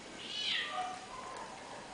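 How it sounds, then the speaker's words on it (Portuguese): A female cat named Neguinha lets out a high, wavering meow, fairly faint and somewhat distant, followed by a lower trailing cry against soft room noise. "Se vocês estiverem ouvindo, ela mia assim como louca"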